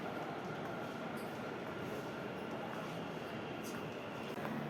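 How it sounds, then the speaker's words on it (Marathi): Inside Majestic metro station in Bangalore, a train gives off a constant low rumble and hum, with station ambience and faint distant voices filling the space throughout. "Majestic metro station."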